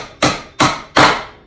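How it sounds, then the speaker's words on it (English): Three sharp hand-hammer blows strike nails into wood while a life-size Halloween mummy frame is being built, evenly spaced and close, each hit ringing briefly before fading, with no voices. "We're gonna friggin' hand hammer and nail everything together."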